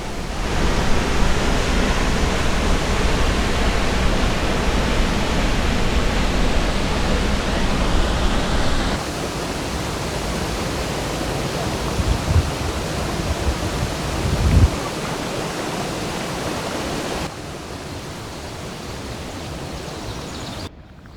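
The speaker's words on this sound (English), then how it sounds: "The sound of the water crashing and rushing through the rocks is powerful and filling the air" Powerful mountain river water crashing and rushing over rocks in a gorge near Krimml, Austria, a steady broadband roar that fills the scene with no voices, dipping slightly in level partway through.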